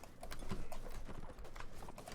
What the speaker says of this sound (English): Alright everyone, mount horses.